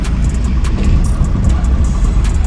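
An oncoming car approaches on a forest road at night, its engine rumble and tire noise loud and close, heard from inside a moving vehicle with steady road roar.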